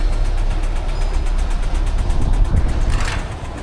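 An Acura car engine idles loud and close, with a steady low rumble and a slight knocking texture throughout, no voices over it.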